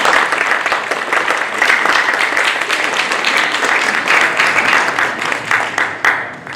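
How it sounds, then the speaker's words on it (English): Audience at a city council and mayoral candidate forum applauds as the program begins: a loud, dense, continuous burst of many people clapping, sustained for several seconds before tapering off slightly at the end. "thank you for the applause as we begin the program"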